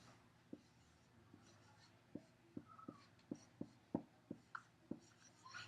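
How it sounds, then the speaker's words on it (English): A marker writing the word positive in blue on a classroom board, a run of soft, evenly spaced taps and squeaks close by under faint room hiss. "So I'm going to write positive."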